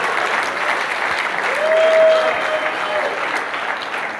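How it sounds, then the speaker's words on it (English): Audience applause fills the room at steady loudness, a dense crowd of clapping hands that swells slightly midway, with a faint sustained tone briefly audible underneath. "Let's clap it up for this man."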